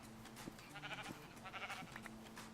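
Several short, fairly faint sheep bleats from the Minecraft video game, some overlapping, heard close against a quiet background.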